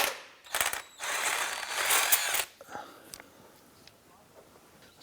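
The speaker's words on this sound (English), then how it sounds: "let's go ahead and remove the crank bolt." A ratchet works the crankshaft bolt on a 2001-2005 Honda Civic, giving two quick bursts of close, rapid clicking, followed by quieter scattered tool handling noises.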